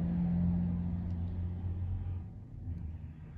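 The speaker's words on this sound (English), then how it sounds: "Loud ass truck." A loud truck rumbles past outside a house that is not soundproof, a heavy low engine drone that holds steady and then fades slightly toward the end, no talking.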